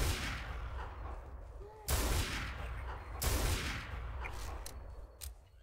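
Gunfire from an M9K weapons addon in a video game deathmatch: a few sharp, loud shots in separate bursts over a rumbling background, with no talking.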